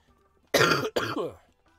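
Two harsh coughs in quick succession, close and loud, followed by silence.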